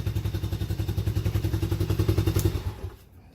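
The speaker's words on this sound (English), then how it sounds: "This thing, you don't even have to put the choke on. And it starts right up first pull." A small engine with a freshly cleaned carburetor runs from a cold start without choke, a rapid, even, close-up putter of firing pulses that suddenly cuts and fades out near the end.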